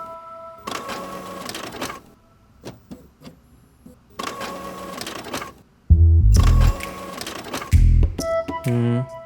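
A printer runs off copies of files in repeated loud mechanical bursts of whirring and feeding, separated by short pauses, followed by louder tonal electronic beeps and mechanical noise toward the end.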